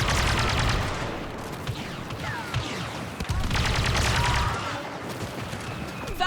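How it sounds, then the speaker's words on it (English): Sustained automatic gunfire from a Star Wars Battlefront 2 firefight, dense bursts of rapid shots in two heavy waves with laser-like whines and distant booms between them, loud and continuous. "Stay here and lay down cover fire."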